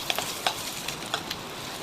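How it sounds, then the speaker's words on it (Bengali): Chopped onion and peeled garlic fry quietly in a home kitchen pan, a faint steady sizzle with a few soft stirring clicks and scrapes. "পেঁয়াজটা ভাজা হয়ে গেছে"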